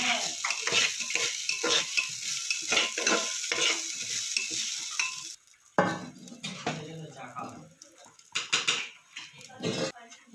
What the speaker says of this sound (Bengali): এখন তো চালটা তো ভাজা হচ্ছে আগে,